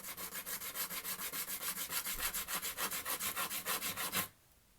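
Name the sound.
sanding bass guitar fret nut on flat surface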